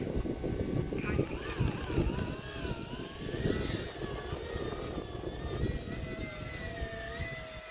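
An E-Flite V22 Osprey RC aircraft hovering in stiff, gusty wind, its electric motors giving a rising and falling whine over heavy wind rumble while a person talks nearby.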